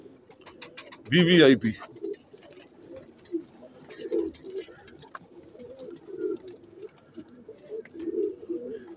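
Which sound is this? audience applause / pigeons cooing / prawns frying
pigeons cooing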